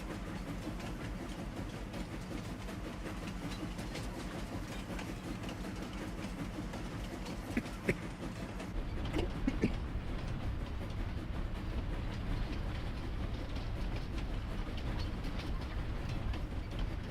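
A train in Farming Simulator 25 crosses a viaduct on a Scottish Highlands map. It gives a steady mechanical rumble with faint rail clatter, and the sound deepens and thickens partway through as it rolls onto the bridge.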